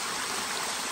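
Water rushes down a tall forest waterfall in a steady, loud, broadband roar that stays constant and close throughout, with no voices.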